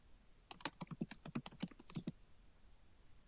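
Quick clicks of fingers typing on a computer keyboard, a short burst of a dozen or so close keystrokes followed by a pause and one last tap, quiet and with no voices.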